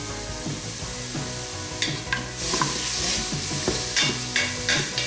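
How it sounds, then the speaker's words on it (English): Skinless bone-in chicken sizzling as it sautés in an Instant Pot, a steady fry hiss with scraping and stirring clatter over it, close up and without talk. "there's no need to saute very long"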